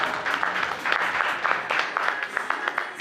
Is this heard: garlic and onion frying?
no